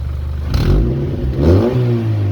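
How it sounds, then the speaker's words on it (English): A Mazda Miata NC engine revs twice in quick succession, its stock exhaust with a deliberate leak made by a washer hack giving a raspy, crackling note, loud and close with no talking. "So there's an exhaust leak on purpose to give you like that sound"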